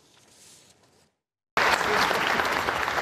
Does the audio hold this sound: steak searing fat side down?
no